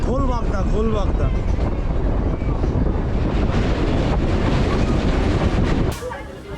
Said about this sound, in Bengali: ট্রেন তো ছুটছে নিজের গতিতে,